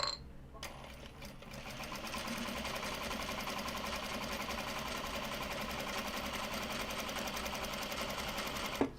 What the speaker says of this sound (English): Sewing machine needs to go on.